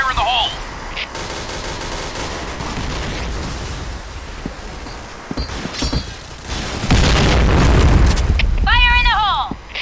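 Gunfire and a grenade blast sound in the video game Point Blank during a competitive match, with bursts of shots and booms and a loud rumbling stretch near the end, while players talk throughout.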